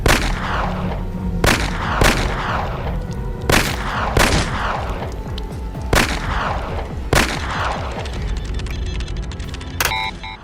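Pistol shots in a Five Nights at Freddy's style animated horror scene, a Foundation-issued handgun fired at an immortal creature: six loud, sharp reports spaced about a second apart over a low rumbling ambience.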